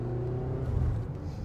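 A 2019 Toyota RAV4 Hybrid weighing about 3,600 pounds accelerates under both electric motors and gasoline engine, a loud, steady engine drone with a low rumble and rising whir heard from inside the cabin.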